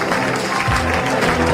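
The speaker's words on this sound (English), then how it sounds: "How about a nice round of applause for Rupa's brother Vivek" Brief burst of guest applause following a speech at a family celebration, loud and close, a dense continuous clatter of clapping with a low thump partway through.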